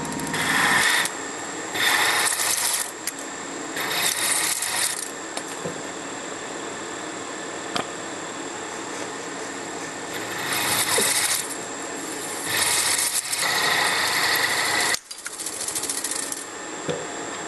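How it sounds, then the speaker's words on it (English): An end mill plunging slowly into a metal part on a milling machine, giving several grinding, rasping cutting bursts separated by quieter running spindle hum, fairly close and loud. "Plunge the end mill into the part slowly"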